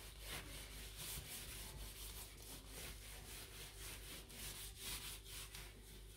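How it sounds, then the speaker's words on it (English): A glass stovetop is scrubbed with a homemade cleaning mixture, giving quiet rhythmic back-and-forth rubbing strokes, faint and close, with no voices. "So just give it some easy scrub."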